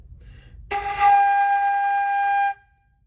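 A single sustained flute note, G, clear and steady, held for about two seconds before stopping, alone in a quiet room.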